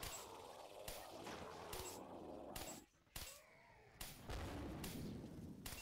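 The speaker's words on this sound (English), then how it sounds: "Now I'm using that launcher again." Launcher weapon firing in the video game Killing Floor, with repeated loud booming blasts at a steady rhythm, about every second, over dense in-game background noise.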